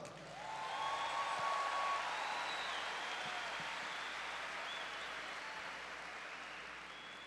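Church audience applauding after a sermon in Brasília, a dense wash of clapping that swells within the first second, peaks, then holds steady and tapers slightly over several seconds, with no voices over it.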